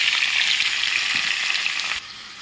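Tomatoes frying in hot mustard oil with a chili, giving a loud, steady hiss and sizzle that drops abruptly in level near the end, with no talking.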